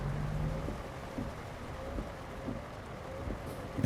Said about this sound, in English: the rain's not doing us any favors